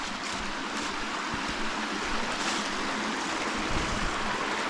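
A flowing creek beside a hiking trail in the Big South Fork makes a steady, broad rushing and burbling wash, fairly close and continuous, with no voices.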